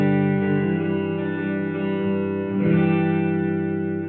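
Room reverb setting soloed on a reverb pedal, giving a steady sustained guitar tone with a dense, washy ambient tail that swells slightly near the end and fills the space continuously.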